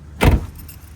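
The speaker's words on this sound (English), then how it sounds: "I have 2 sets of keys, which I will show you right now." Two sets of keys for a 1990 Nissan 300ZX Twin Turbo jangle in one short, bright rattle near the start, then fade into quiet room tone.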